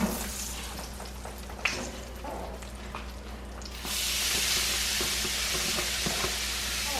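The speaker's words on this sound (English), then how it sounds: "So now we're going to go ahead and just put our hash browns in." Hash browns drop into a pan of melted butter and oil and break into a steady, loud sizzle that fills the second half, following a quieter stretch of low frying and stirring, with no talk.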